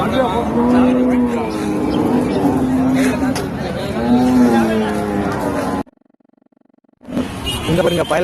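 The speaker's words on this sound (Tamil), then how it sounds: "மாடெல்லாம் ஃபுல்லாமே வண்டி மாடு தான் ஃப்ரெண்ட்ஸ்" Cart bulls low and moo at the Manapparai cattle market in a loud, crowded outdoor scene, with people talking throughout and a short silent gap near the end.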